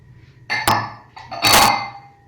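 Onions added to a pan of cooked chickpeas: two clattering metal strikes and scrapes against the pan, each with a short ringing tail, close and clear, no talking.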